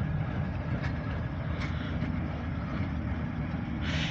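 Alco light-power locomotives of the OC&T railroad pass by with a low, steady engine rumble at moderate distance, a continuous drone with a few faint clanks and a brief hiss near the end.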